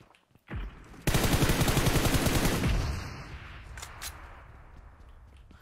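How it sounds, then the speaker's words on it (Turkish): Rapid automatic gunfire in the video game PUBG Mobile: a sharp single blast, then a dense, loud burst of fast shots lasting about a second and a half that trails off into fading echoes with a few scattered distant pops. "Kankam ne roket atıp duruyorsun?"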